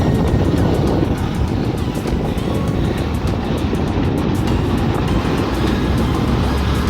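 Loud, steady rumble of heavy truck traffic rolling past nearby, a dense roar that never lets up, with no talking.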